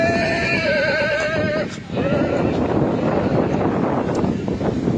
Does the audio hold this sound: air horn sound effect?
no